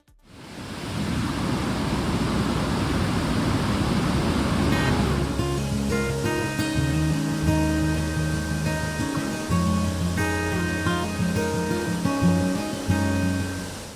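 Anakkallampara waterfall in Kozhikode flows after rain with a dense, steady roar of rushing water for several seconds before tonal music rises and masks it.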